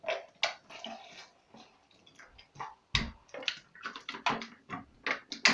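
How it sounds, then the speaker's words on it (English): Water poured into a drink bottle holding a scoop of BCAA powder, heard as close, irregular splashing and gurgling bursts with short pauses between pours, with no voices. "I put some water inside."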